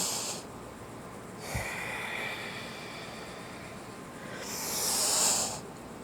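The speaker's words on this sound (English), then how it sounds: "we're inhaling and exhaling through our nose" Slow yoga breathing through the nose, drawn in and pushed out in long, soft, airy hisses, with one louder rushing exhale near the end and no talking.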